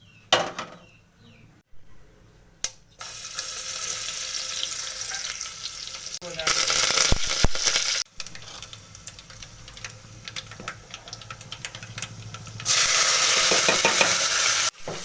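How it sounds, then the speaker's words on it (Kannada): Onion and tomato fry in oil for chicken sukka with a close sizzle that comes in bursts. Scraping and stirring clatter from the pan breaks in between the bursts. "ಈರುಳ್ಳಿ ಟೊಮೆಟೊ ಎಲ್ಲ ಸರಿಯಾಗಿ ಎಣ್ಣೆ ಫ್ರೈ ಆಗುತ್ತೆ"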